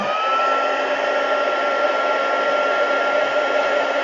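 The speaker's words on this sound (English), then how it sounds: "I'm going to just give it a blast with the heat gun" Heat gun blasting hot air to dry ink on a craft piece, a constant steady whooshing drone close by, holding at an even level with no pauses or talk.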